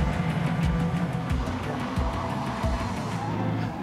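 Paddy Hopkirk's classic Mini, his Monte Carlo rally-winning car, runs at Silverstone Classic 2019 among other cars, a steady loud engine drone with passing motors and faint tyre noise throughout.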